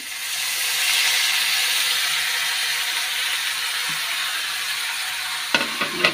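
Oil sizzles steadily in a pan with a broad hiss as eggplant fries, followed near the end by a few sharp clinks of a utensil.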